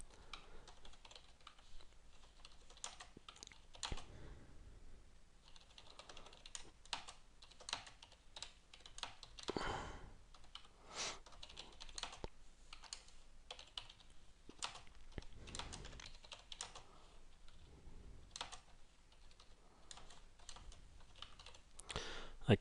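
Someone types on a computer keyboard, a quiet, close, irregular patter of keystrokes that runs steadily for over twenty seconds with brief pauses and occasional firmer taps, no talking.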